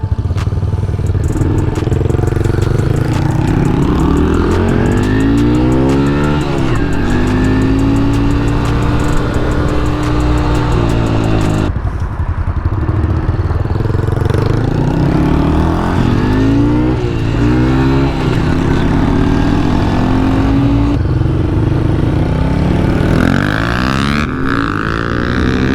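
A Razor RSF 6000W electric dirt bike ridden hard, its motor whine rising and falling in loud repeated sweeps as it accelerates and slows over a long continuous stretch, with no talking.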